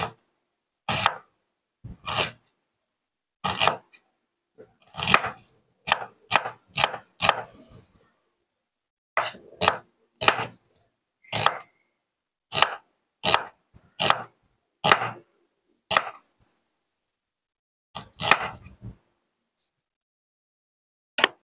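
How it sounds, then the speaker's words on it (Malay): Crisp knife strokes slicing a large onion thinly on a board for kerabu petai, about twenty separate sharp chops in uneven bursts with brief pauses, close and clear with no voices. "Kita hiring nipis je bawang"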